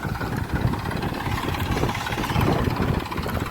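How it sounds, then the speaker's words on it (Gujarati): A tractor engine runs in farm fields nearby, a steady low, throbbing mechanical rumble that holds at a constant moderate level throughout, with no voices. "ટ્રેક્ટર શરૂ છે અહીંયા ટ્રેક્ટર આજુબાજુમાં ખેતરમાંથી હાલી રહ્યા છે"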